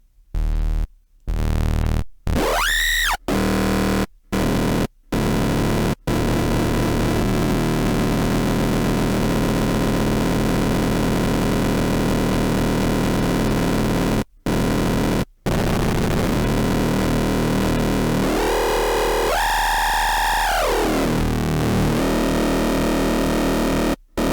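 Dense, buzzing psytrance FM synth tones, a sub oscillator modulating a chain of operators, with sweeping metallic harmonics, repeatedly cut off by brief silences, loud and harsh throughout.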